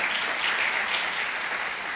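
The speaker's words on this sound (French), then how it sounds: "Je vous invite à les applaudir." Audience applause for professional foster mothers in Djibouti, a steady dense wash of clapping from a large crowd held at an even level throughout, with no voices above it.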